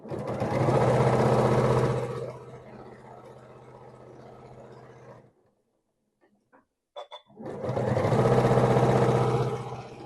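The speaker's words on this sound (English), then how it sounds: "I'm going to take it to my sewing machine and just do a seam" A sewing machine runs in a steady, loud whirring stitch, pauses briefly with a few small clicks, then starts up again at full speed.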